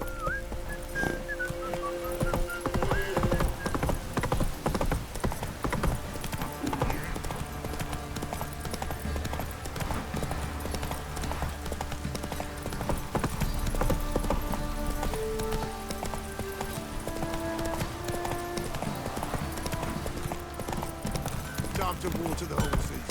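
Horse hooves clip-clop at a steady trotting rhythm throughout, sitting under music and character voices while a rider travels through The Witcher 3: Wild Hunt.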